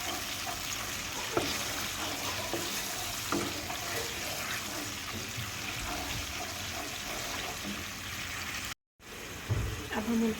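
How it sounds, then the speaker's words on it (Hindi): Water poured into a pan to make sugar syrup for milk vermicelli, a continuous splashing and trickling stream heard close, with a few clinks along the way and a brief break near the end. "थोड़ा सा पानी डाल के इसका शीरा बनाएंगे।"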